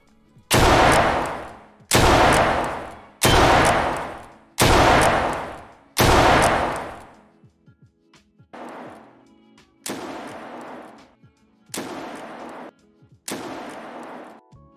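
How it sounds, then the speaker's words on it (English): Eight heavy RH12 gunshots from Escape From Tarkov boom at roughly even intervals, each shot trailing a long decaying echo; the first five are loud, and the last three are somewhat quieter. "This is how much the gun kicks."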